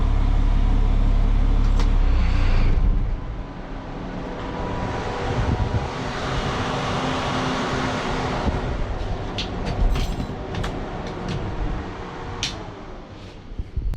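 A 1000HP Cummins diesel drag truck engine runs close by with a steady loud rumble and drone that opens with a heavier low burst, then settles to an even idle-like hum with no voices.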